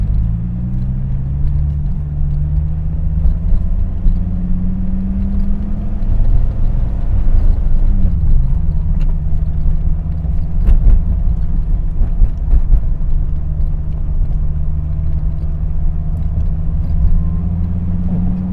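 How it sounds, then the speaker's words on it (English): A Dodge Viper GTS engine drones steadily while the car is driven, a loud, deep, continuous rumble with a brief shift in pitch partway through and no talking. "This thing sounds like an old stroker motor. It sounds really good."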